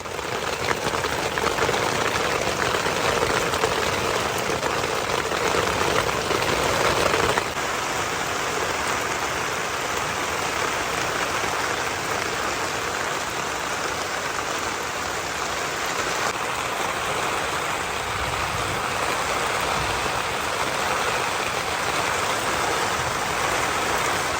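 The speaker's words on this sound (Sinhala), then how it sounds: "අද වහිනවා හොඳටම." Steady heavy rain pours down continuously, a dense hiss of drops on surfaces that eases slightly after the first few seconds.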